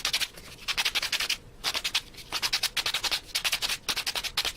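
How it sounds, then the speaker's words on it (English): Hand sanding rounds over the edge of a custom electric guitar body with 180-grit paper: close, rhythmic bursts of scratchy back-and-forth strokes in groups, separated by short pauses, with no talking. "just like sand over radius, kind of round over the end while I do it"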